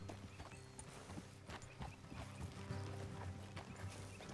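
Horse hooves walking in the video game Red Dead Redemption 2, faint, slow, uneven clip-clop over a low background hum, with no other sounds standing out.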